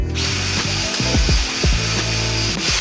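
A steel wire brush scrubs a part of a rebuilt 300 hp turbo race engine in loud, close, rhythmic scraping strokes, repeated several times in quick succession without speech.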